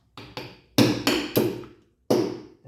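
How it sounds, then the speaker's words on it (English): A hammer whacks a silver jewellery blank out of a die with six sharp metallic blows at an uneven pace, each ringing briefly before the next. "the blank out, to whack it again, so otherwise I won't get it out."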